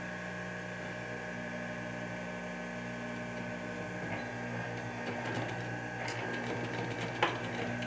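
Sewing machine running steadily while stitching the seam of a waterproof bag with piping, a continuous mechanical hum and whir, fairly quiet and alone.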